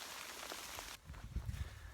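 Rain falling on the Florida Trail, a steady, dense patter of drops on surfaces that abruptly thins halfway through, leaving scattered closer drips and soft low thumps.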